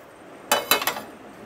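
A utensil strikes a bowl three times in quick succession while omelette egg mixture with onion, tomato and chilli is mixed, bright clinks close up against a quiet background.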